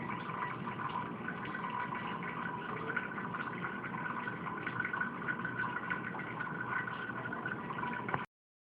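Water drains steadily from a grain bag of homebrew Oktoberfest mini-mash held over a colander, a constant close splashing trickle that runs unbroken for about eight seconds, then stops abruptly.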